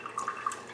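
A wire rinsed under water gives a few light drips and small splashes, close but soft, spread through a short moment.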